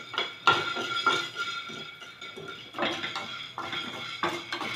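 Spices, including pepper, are dry-roasted in a clay pot for a Diwali herbal medicine, heard as irregular scraping and clinking of a metal spoon against the pot in short bursts, close and fairly quiet.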